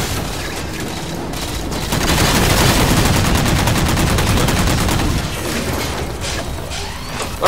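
Heavy sustained gunfire in Halo 4 multiplayer: rapid automatic fire and repeated booming cannon blasts that build to a dense, loud barrage of shooting and explosions.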